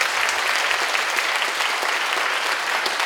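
A university lecture audience bursts into a loud, dense round of applause at the close of a special talk by the mayor of Daegu, the clapping steady and sustained throughout with no speech over it.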